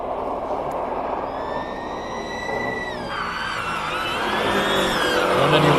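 Porsche race car at the Simola Hillclimb: engine whine climbing through the gears at a distance, with a shift and a steady build as it nears, under a constant crowd and ambient wash.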